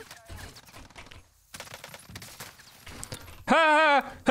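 Short bursts of Bullfrog SMG fire in Warzone, close-range shots scattered under game noise and a man's speech, ending in a loud tonal blare.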